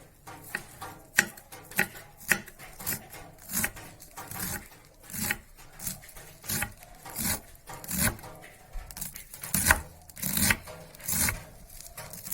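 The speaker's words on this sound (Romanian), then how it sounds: "În final pregătim și verdeața. O tăiem în rânțel." Fresh herbs being chopped on a board for pork ciorbă, a series of sharp, irregular knife strikes, some close and loud, with quieter cuts in between and no talking.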